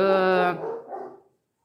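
A dog barks loudly and sharply close by in a short harmonic burst, trailing off into quieter growly yelps, with no talk over it.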